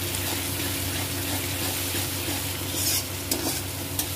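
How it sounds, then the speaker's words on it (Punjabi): Green chillies hit hot oil in a pan for cabbage and pea sabzi, giving a steady, close frying sizzle with stirring scrapes and a few louder spatters near the end. "ਲੈ ਜੀ ਹੁਣ ਅਸੀਂ ਇਹਦੇ ਵਿੱਚ ਸੁੱਟਾਂਗੇ ਹਰੀਆਂ ਮਿਰਚਾਂ।"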